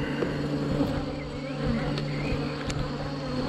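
A dense, steady buzz of many honeybees droning together close by around open hive frames, with no talking over it.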